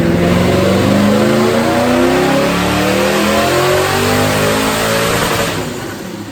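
A 2005 Ford Mustang 3V with a Paxton supercharger roars on a chassis dyno, revving loudly and steadily climbing in pitch through a full pull, then easing off near the end.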